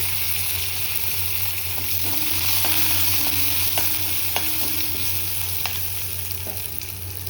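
Curry leaves and ginger frying in hot oil for a Mysore bonda tempering give a steady, close sizzle and crackle, broken by light scrapes and taps of a stirring spoon against the pan.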